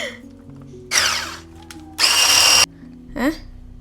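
Cupcake batter whipped with an electric hand mixer in a home kitchen: two loud whirring bursts, the second steady for about half a second, then a shorter third burst, with low background hum between.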